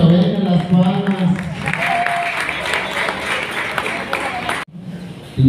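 Audience clapping at a Christmas gift event, a strong burst of applause with crowd noise and voices mixed in, cut short by a sudden break before resuming.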